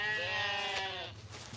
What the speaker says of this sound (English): Just sheep. Just sheep.